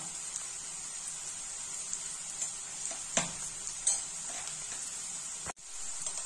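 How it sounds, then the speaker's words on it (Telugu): Onions frying in oil for a potato curry, a faint steady hiss with a few quiet scrapes of a spoon and one short sharp knock near the end. "ఉల్లిపాయలంతా చూడండి రెడ్ గా వేగుతున్నాయి కదా"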